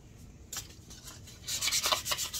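Scuff sanding the inside of a wooden jewelry box by hand, a soft, close rubbing rasp in short strokes, faint at first and growing into quicker, denser scrubbing toward the end.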